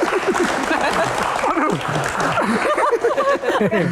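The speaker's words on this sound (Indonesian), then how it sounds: "Tepuk tangan." Applause and clapping from a crowd mixed with overlapping talk and some laughter, loud and close throughout.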